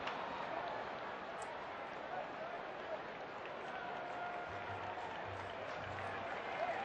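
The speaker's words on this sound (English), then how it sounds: "Sam should get a nice round of applause here." Distant baseball stadium crowd giving a round of applause at a Milwaukee at Chicago game, a soft continuous wash of clapping and crowd murmur heard faintly and evenly throughout.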